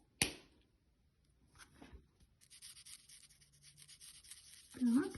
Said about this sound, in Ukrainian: Беремо маркери, розфарбовуємо.